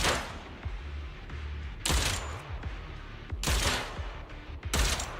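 Gunfire in a video game: three loud, sharp bursts spaced a second or two apart over a steady background rumble, each with a brief tail.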